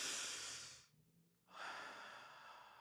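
A person takes a deep, airy breath close to the microphone, a long inhale that pauses briefly and then gives way to a long exhale.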